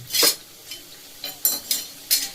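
Vegetable chops fry slowly in a pan on a low flame, a soft sizzle punctuated by five sharp bursts of spluttering or scraping at irregular intervals, close and fairly loud.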